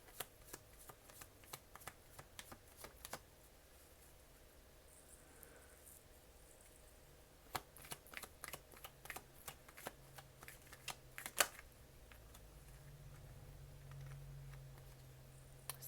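Tarot cards shuffled by hand, giving soft close-up flicks and light slaps in an uneven patter with a few sharper snaps, over a quiet room hum.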